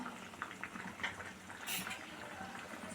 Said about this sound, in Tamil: நல்லா கொதிக்குது பாருங்கள் குழம்பு